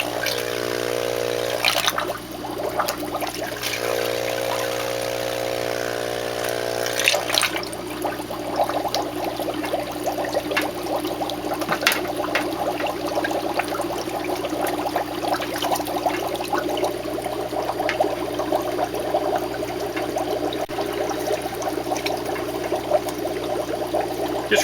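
Water rushes and splashes while a Santa Monica SURF4 UAS algae filtration unit is rinsed out, a continuous loud flow with gurgles and shifting spray lasting the whole stretch.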